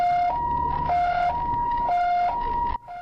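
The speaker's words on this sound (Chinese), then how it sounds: "救护车赶紧要将人送去病院" An ambulance siren wails in a steady two-tone pattern, alternating high and low pitches about once a second, loud and close, cutting off abruptly near the end.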